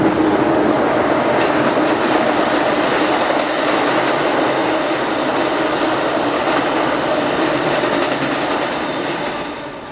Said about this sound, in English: Yeah, that was the Amtrak.